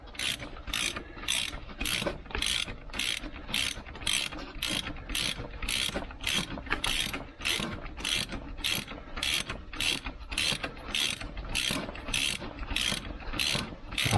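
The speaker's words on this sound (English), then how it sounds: "So I'll tighten it up as much as I can with the ratchet." A ratchet tightens the harmonic damper bolt on an LS1 engine, giving a steady, rapid run of close, loud clicking strokes that repeats evenly with no talk.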